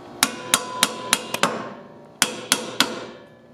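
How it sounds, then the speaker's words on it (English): A hammer strikes a car's ball joint on a Honda Element/CR-V front lower control arm to break it loose: about eight sharp metallic blows in two bursts, each ringing briefly, close and loud. "To break this loose, you can use the ball joint separator, or you can get your hammer."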